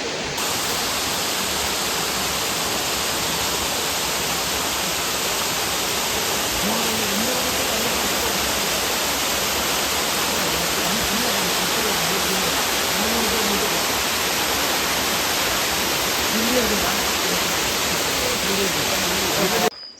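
A waterfall on the Mannavan Shola forest trail in Anamudi Shola National Park roars close and continuously, a loud, steady rush of water lasting the whole stretch.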